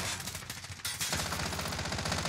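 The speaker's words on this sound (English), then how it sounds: "Yep, he's shooting at me again." Gunfire from a video game shooter, a short loud rattle of rapid shots that cuts in after a brief quieter moment and keeps going densely to the end.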